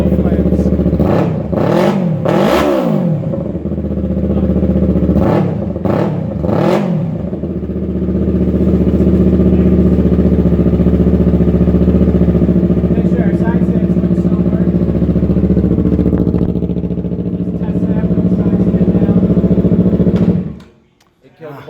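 A Yamaha R3 motorcycle engine idles steadily and close by, a continuous low drone with a few sharp throttle blips early on, before the sound drops away at the end.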